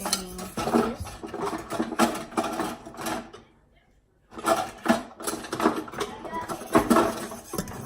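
Cola cake batter being stirred in a bowl, with soft scraping and clinking of a utensil against the bowl close by, broken by a brief quiet pause midway; people talk over it.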